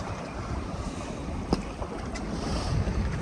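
Steady wind and washing sea waves around a Contessa 26 sailboat under full sail at about 5 knots, a continuous broadband rush with a few brief splashes and knocks, close and fairly loud, no voices.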